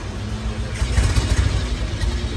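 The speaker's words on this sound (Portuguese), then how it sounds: "É muito massa o barulho desse carro" A Volkswagen Gol car engine revs in short bursts, rising to a louder rumbling peak in the middle before settling back, heard close with faint background voices.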